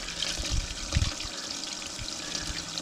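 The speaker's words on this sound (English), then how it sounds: "I'm doing a fresh water flush right now of the pump is on" Fresh water rushing through an RV macerator pump during a flush, a continuous hissing flow with a few low thumps and gurgles.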